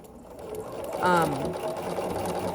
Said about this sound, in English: now I'm gonna sew on the line between 1 and 2